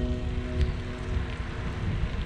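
Heavy rain pours steadily while bikepacking toward North Cape, a dense, even hiss with some wind buffeting the microphone and no talking.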